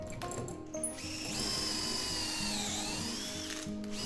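A drill with a somewhat dull bit bores a hole in a wooden side table, its motor holding a steady close whine for several seconds with a slight dip in pitch partway through. A few clicks come before and after.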